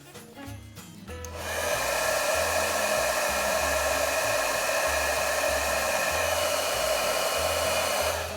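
A handheld heat tool melts embossing powder on a stamped watercolour Christmas tree card, switching on after a quiet moment into a loud, steady blowing whir with a pulsing low hum that continues to the end.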